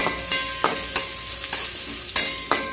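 Medium-chopped onion and plenty of chili sauté in a pan over a continuous sizzle. A spatula stirs and scrapes in regular strokes, about six or seven crisp knocks in under three seconds, loud and close.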